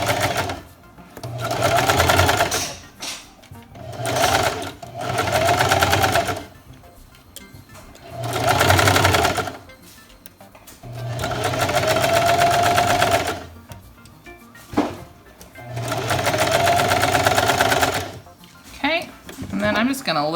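A home sewing machine stitches neck binding onto a newborn onesie in several bursts of rapid, steady whirring, each running a few seconds with short pauses between them.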